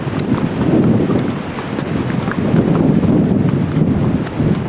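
Horse hooves clip-clop steadily along a mountain trail in the Kaghan–Naran valley, a continuous close rhythm of steps blended with wind buffeting the microphone.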